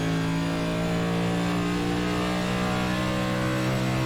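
A NASCAR Next Gen car in iRacing gains speed, with a loud, steady engine drone and strong harmonic hum continuing without pause and no voices.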